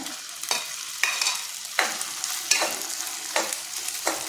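Cumin seeds and green chilies roast in a pan for sabudana khichdi, with a steady close sizzle broken by about six sharp scraping stirs at roughly even intervals, with no voices.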